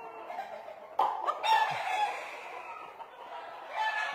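Fighting roosters in a cockpit, several birds crowing and clucking at close range over a low hum, one loud crow rising near the start.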